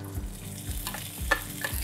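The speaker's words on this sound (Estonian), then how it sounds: "Hakkame praadima. Paneme pannil natuke õli. Ja siis paneme selle rebitud kaera." Shredded oats frying in oil in a pan, a steady close sizzle with soft stirring scrapes and small pops throughout, no voices.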